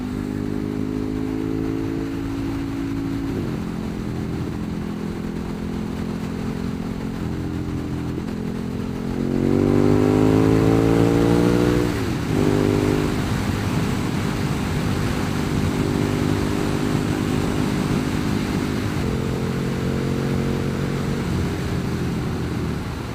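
KTM Super Duke 1290 R motorcycle engine running loud and steady while riding, with a rising rev surge around the middle, then settling back to a throbbing cruise, no talking.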